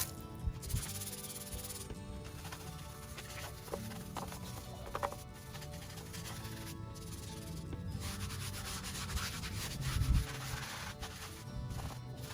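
A Chemical Guys stiff brush scrubbing inside the holes of a truck wheel, quiet repeated rubbing and bristle scraping strokes in an uneven rhythm with occasional louder scrubs.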